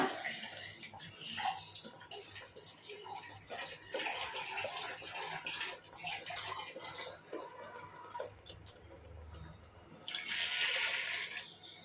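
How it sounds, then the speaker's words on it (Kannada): Water pours steadily into a pot for fish curry, a continuous splashing stream with a brighter, louder burst near the end; no talking over it. "ಎಷ್ಟು ನೀರು ಬೇಕೋ ಅಷ್ಟು ನೀರನ್ನು ನಾವು ಇದಕ್ಕೆ ಹಾಕ್ಕೊಳ್ಳೋಣ"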